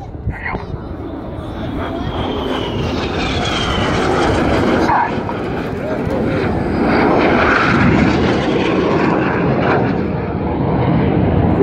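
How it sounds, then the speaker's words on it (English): Two Red Arrows jets cross each other in opposing tight turns of the carousel manoeuvre at an air day display, their loud roaring jet noise swelling and fading continuously with a commentator talking over it. "This time Red 6 from the left and Red 7 from the right. They're closing at 800 miles an hour."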